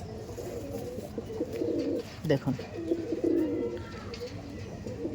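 Domestic pigeons coo in a loft of forty to fifty birds, some pairs ready to breed, their low throaty murmurs steady and close beneath someone talking.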